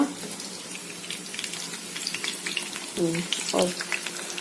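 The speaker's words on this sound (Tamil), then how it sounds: "இது போட்டு எண்ணெயில் போட்டு வேக வச்சுக்கலாங்க" Leftover rice snack frying in hot oil, a steady soft sizzle throughout with a couple of louder bubbling bursts near the end, heard close up with no talking.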